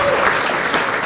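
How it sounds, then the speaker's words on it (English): Audience members at a Serbian Statehood Day banquet give a performing group a round of applause, a loud, steady wash of clapping throughout. "Can we get one more round of applause for Ravna Gora?"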